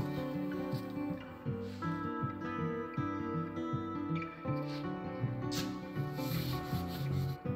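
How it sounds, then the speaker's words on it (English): A rifle stock is hand-sanded with 2000-grit sandpaper during a gun restoration. Continuous close rubbing strokes run throughout, with a tonal background hum and no speech. "Just finished her up with the 2000 grit."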